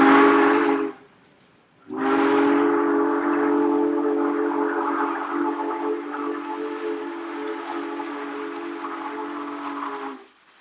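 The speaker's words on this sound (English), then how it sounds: "enjoy some great train watching as a variety of Bob's favorite Weaver engines pass" A steam-style whistle blows briefly, pauses, then sounds again in a long sustained tone while an O gauge two-rail model train rumbles past, alone without talk.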